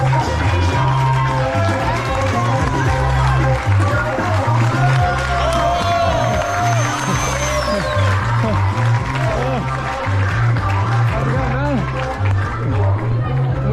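Spectators applaud and cheer at the finish of the Swiss Peaks 360 ultra race, a continuous dense crowd roar over a loud, steady thumping music beat, with voices mixed in throughout.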